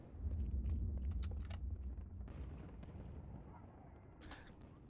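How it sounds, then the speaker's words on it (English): Silenced SMG fire in the video game Halo 2 comes as muffled, heavy bursts over a deep rumble, loudest early and then trailing off, with a few sharper cracks near the end. "let's see if that now causes it to carry over as a silenced SMG."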